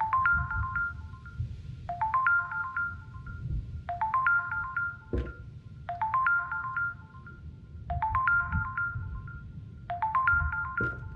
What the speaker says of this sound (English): Is that phone ring?